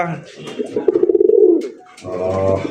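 Fancy racer pigeons at a bird market coo in a close, rolling burst of low pulses, followed by a second murmuring coo after a short pause, with faint voices around.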